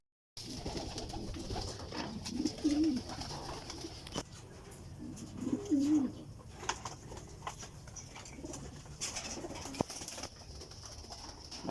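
Racing pigeons at a loft give a few soft, low coos amid a busy background of rustling, shuffling and occasional wing flutters, fairly close with no talk.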